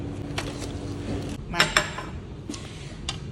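A spoon clinks sharply against dishes a handful of times, in irregular close taps, while a Nutella banana cheese dessert is served, over a low room hum.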